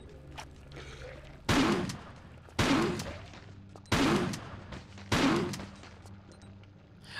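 Four loud shotgun blasts from the video game Tomb Raider 4, evenly spaced about a second apart, each a sharp crack with a short decaying tail.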